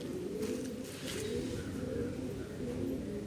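Domestic pigeons, an older breeding pair, coo softly and repeatedly, a low rolling murmur running continuously at moderate distance.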